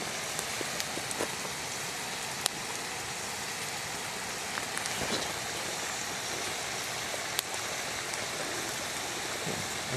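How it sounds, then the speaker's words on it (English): Water boiled by heated rocks bubbles and fizzes in a steady, fairly quiet hiss, with sharp pops and crackles scattered throughout. "Boiling water with rocks."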